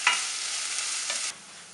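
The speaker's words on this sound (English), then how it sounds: "Fry the onions until softened." Onions frying in hot oil, a steady close sizzle with brief stirring scrapes that stops abruptly near the end, with no voices.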